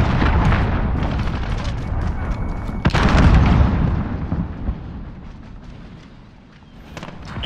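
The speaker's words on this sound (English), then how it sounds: "Allied cruise missile launched." Video game cruise missile strike: a heavy explosive boom near the three-second mark, with rumbling blasts and battlefield noise before and after that fade out toward the end.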